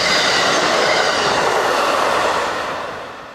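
An eastbound freight train rolls under the 10th Street overpass in the early morning, a loud, dense roar and rumble of wheels and cars that holds steady, then begins to fade toward the end.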